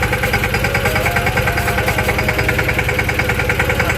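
A mini tractor's engine runs steadily close by on a farm, a loud, even throbbing chug without pause.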